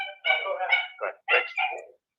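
A dog named Dieter barks and yelps in a recording, a few short clipped calls in quick bursts against silence, somewhat muffled and distant.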